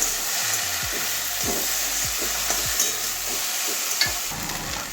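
Okra (bhindi) being stirred in a frying pan after a pinch of sugar is added, with a steady close sizzle under repeated scraping strokes of a spoon against the pan, no voices.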